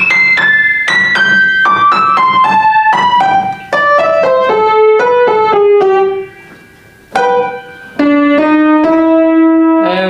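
A piano plays the introduction of Scott Joplin's The Entertainer, a loud, clear melodic line of separate notes running downward, with short pauses before the final held notes.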